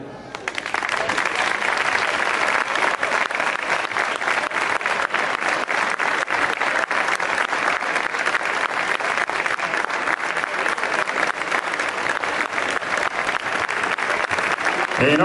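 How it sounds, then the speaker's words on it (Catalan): A packed audience at a Semana Santa Marinera award ceremony claps steadily and loudly for an honoree, a dense, sustained applause that runs unbroken for about fifteen seconds after a quick start. "un fortíssim aplaudiment"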